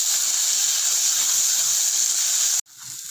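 Chopped onions fry in a pan for curry leaf kuzhambu, giving a loud, steady, close hiss of sizzling that drops out briefly near the end before resuming more softly.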